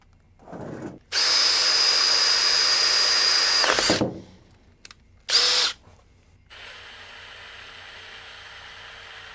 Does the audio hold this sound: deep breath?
no